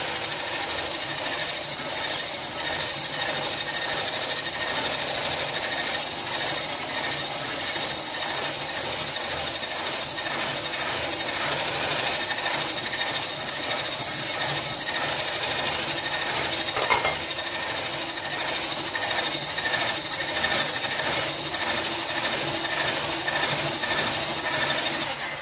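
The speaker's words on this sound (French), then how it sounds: "vous allez monter vos blancs en neige" An electric mixer whips egg whites with sugar into meringue for a lime meringue tart, a steady, loud mechanical whir running continuously throughout with no talk.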